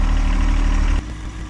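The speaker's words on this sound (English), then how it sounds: "The advantage of using the small little tractor to find the water line" A small tractor engine runs steadily while digging to expose a buried water line during a leak repair, a loud close rumbling idle that drops slightly in level partway through.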